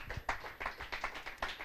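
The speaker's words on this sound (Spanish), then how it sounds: "Denle un aplauso a Dios por eso." Scattered hand clapping from a church congregation praising God, several uneven bursts of claps in quick succession, fairly soft and with no talking over it.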